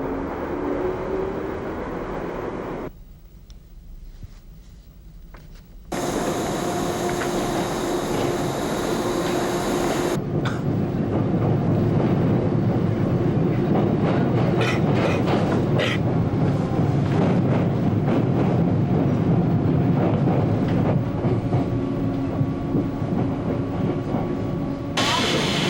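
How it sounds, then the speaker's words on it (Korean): Subway train ride with a steady loud rumble of wheels and motors, dropping briefly quieter before the roar returns and holds throughout. "아, 네, 지하철을 타네요."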